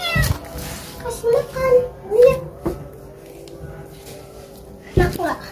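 A cat meows repeatedly while being given food it has been reluctant to eat, several drawn-out close meows in an uneven rhythm with a couple of sharp bumps between them.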